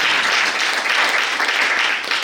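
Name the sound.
congregation applause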